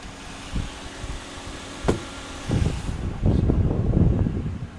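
A 2009 Volvo S40 T5 AWD R-Design with a flooded interior starts and runs, a low engine rumble rising in bursts and settling into a rough idle among a few close knocks and handling noises.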